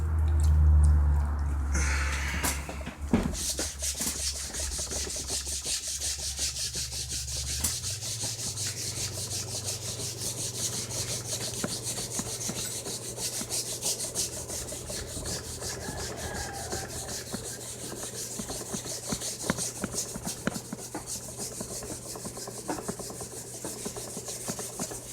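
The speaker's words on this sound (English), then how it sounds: "I definitely need some better sandpaper" Sandpaper rubs steadily across the wooden back of a BC Rich Warlock guitar, a continuous close scratchy rasp running throughout after a brief louder bump at the start.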